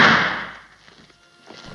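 A single gunshot in a war film about a German general: one loud, sharp blast right at the start that decays over about half a second into quiet room tone, with faint rustles after.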